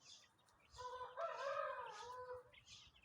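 Shamo chickens, a game-fowl breed kept by poultry breeders, give a single rough, drawn-out crow-like call lasting about a second, fairly close but quiet, over low background noise with no talking.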